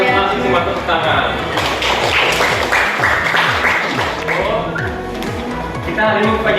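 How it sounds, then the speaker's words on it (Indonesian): A school class clapping hands together in unison, a loud, sustained patter of many hands in a steady, rhythmic beat with voices mixed in. "semua tepuk tangan"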